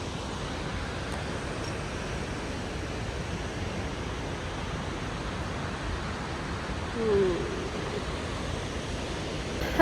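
Water running from a forest stream in Oregon, a continuous, even rush of flowing water that stays steady and fairly close throughout, with no talking.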